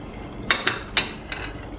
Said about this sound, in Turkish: 1 yemek kaşığı kaya tuzu. Arkadaşlarım ekliyoruz böyle.